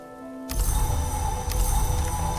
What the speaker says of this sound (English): Rain! Okay.